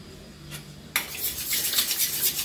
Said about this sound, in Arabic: نضربوها مزيان